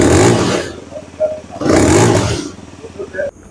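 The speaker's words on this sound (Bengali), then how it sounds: "চলুন এবার আপনাদেরকে এই বাইকটির এক্সস্ট সাউন্ড শোনাই" A CF Moto 125NK motorcycle exhaust revs up twice in loud rising bursts, each fading back to a lumpy idle, recorded up close.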